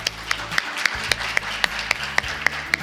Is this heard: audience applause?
yes